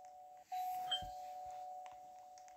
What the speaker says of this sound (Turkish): Kim çalıyor lan zilimi?